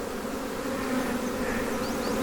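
Honey bees swarm over brood frames pulled from a hive, a dense, continuous droning buzz close up with individual bees whining past.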